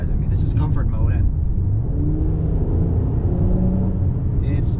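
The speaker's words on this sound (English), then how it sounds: "I can hear the exhaust from the back and it just sounds really, really good" Exhaust note of a 2020 Mercedes-Benz C43 AMG sedan accelerating in comfort mode, a steady low rumble heard from inside the cabin, with a person talking over it.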